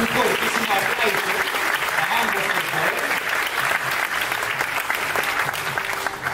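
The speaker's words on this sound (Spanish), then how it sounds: "nos vamos a regalarles un fortísimo aplauso." A presentation audience gives a loud, sustained round of applause, dense and steady throughout with crowd noise and some voices mixed in.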